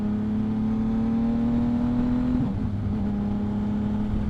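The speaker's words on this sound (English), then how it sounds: "That's the quick shifter." Yamaha MT-09 motorcycle fitted with a Two Brothers exhaust revs steadily up close, then the engine note drops sharply as the quick shifter clicks through an upshift before pulling again.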